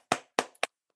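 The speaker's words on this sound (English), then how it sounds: "Why are we clapping?" Two sharp, close hand claps about a quarter second apart, followed by a lighter third clap, each crisp and dry with silence between.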